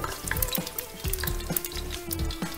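A spoonful of cumin seeds hits hot oil in a pan for tomato pulao, setting off a brief crackling sizzle with light stirring scrapes, close and fairly quiet.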